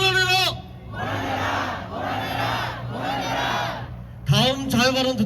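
Crowd at a rally in Ulsan calling for a president's removal chants a protest slogan in unison, loud repeated shouted phrases in bursts with a lead voice at start and end.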